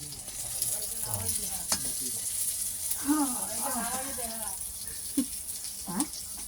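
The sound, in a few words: eggplant frying on a wood-fired clay stove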